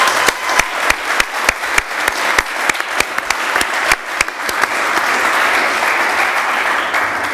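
A church congregation applauds, starting with distinct rhythmic claps that swell into a dense, loud, continuous round of applause filling the hall.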